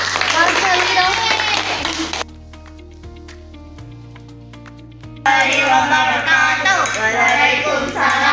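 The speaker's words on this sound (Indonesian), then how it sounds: "Tepuk tangan." Clapping from a group in a classroom presentation, loud and continuous at the start and again after a pause, with voices talking over it and a quieter stretch between.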